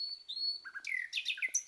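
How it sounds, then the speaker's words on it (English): Synthetic-sounding bird in a video game chirps in quick, bright repeated tweets and trills, fairly close and alone with no talk over it. "listen to this bird. That doesn't sound real."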